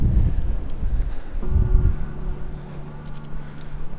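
Strong wind buffets the microphone outdoors at an abandoned building, loud low rumbling gusts that surge and ease, with a faint steady hum emerging partway through.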